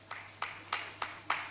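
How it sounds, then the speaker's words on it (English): Five evenly spaced, sharp claps ring out one after another, faint and somewhat distant, as a small burst of applause at a housing show event in Abuja. "Can we give her a round of applause?"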